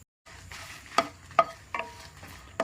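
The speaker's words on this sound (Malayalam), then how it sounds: "ഇനി ഉണക്കമുളക് ഇട്ട് കൊടുക്കാം" Dried red chillies, about six, hitting hot coconut oil in a pan, giving a low steady sizzle broken by a few sharp clinks of a spoon stirring against the metal, close up with no talk.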